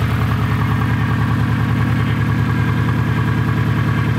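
A Subaru engine runs after repair, idling steadily with an even, pulsing rumble, close and fairly loud, with no other sounds.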